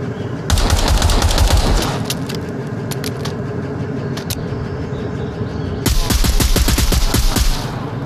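Gunfire in an Oculus Quest 2 VR shooter game: loud rapid automatic bursts at the start and near the end, with scattered single shots and clicks between them, over a steady background hum.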